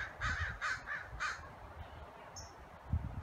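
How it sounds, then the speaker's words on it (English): A crow caws in a few evenly spaced calls as it chases a young bald eagle or hawk over an abandoned military base, with a faint higher call near the end. "Something's chasing it. I think a crow's chasing it."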